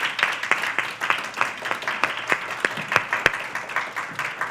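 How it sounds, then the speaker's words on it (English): Steady, rhythmic clapping fills the hall as an audience applauds faculty at an occupational therapy pinning ceremony, a dense, even patter that holds throughout without voices. "Let's give them a round of applause."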